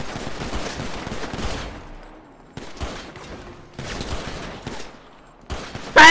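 Gunfire rings out in GTA, a burst of rapid, loud shots in clustered volleys separated by brief quiet gaps, with a sharp blast right at the end.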